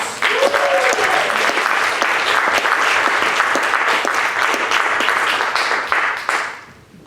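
An audience at a Black and Asian writers conference warmly applauds to welcome poet Sujata Bhatt, a full, dense round of clapping that runs steady for about six seconds and then fades out, with a faint voice near the start.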